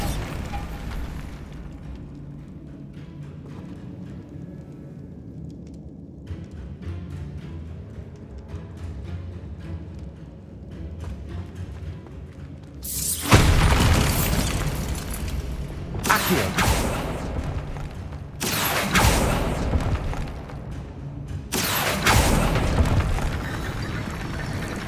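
In a dark catacomb of Hogwarts Legacy, a Bombarda blasting spell detonates in heavy, roaring explosions, several booming bursts in a row following a quieter stretch of ambience.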